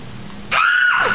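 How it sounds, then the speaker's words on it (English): A scream bursts out after a quiet lead-in, loud and sustained for about half a second before trailing off, alone with no talk over it. "And Seto screams."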